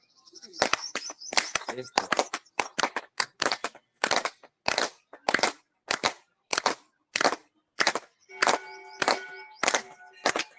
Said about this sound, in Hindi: अब बजा लें ताली